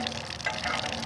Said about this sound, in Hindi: पानी आ गया।